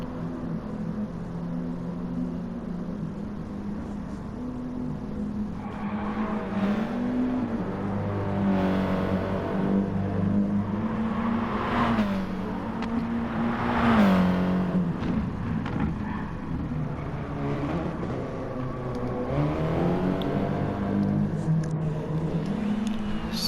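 Porsche race cars circulate at Lago Maggiore in a racing video game, a steady engine drone rising and falling in pitch as the cars accelerate and lift through corners, continuous and moderately loud.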